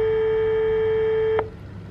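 A single steady phone tone drones on for over a second, then stops with a soft click, as a live call is placed to a contest prize winner. Quiet room hiss follows.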